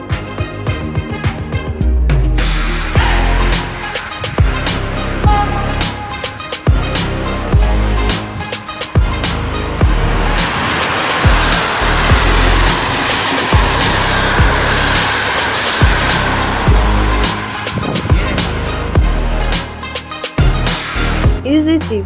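A train passing through Poznań Wschód station in Poland: a loud, rough rumble with rhythmic clanks and thumps carries on steadily for about twenty seconds after a short quieter opening, and a voice talks over it.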